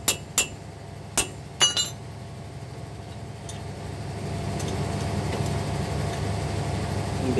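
Car propeller shaft coupling bolts struck with a hammer, four sharp metallic clanks in the first two seconds, followed by a low engine-like hum.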